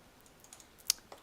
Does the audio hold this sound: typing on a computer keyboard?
yes